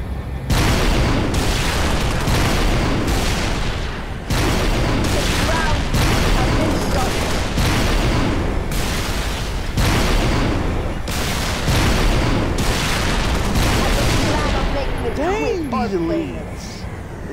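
A player's weapon fires in a video game: a long series of heavy, booming blasts follows in close succession and stays loud throughout. Voices and game chatter run beneath the firing.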